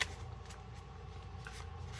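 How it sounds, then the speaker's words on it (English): A deck of playing cards is shuffled by hand in a quiet, close riffle of rapid soft flutters lasting about two seconds. "All right, so I'm going to give the cards a shuffle"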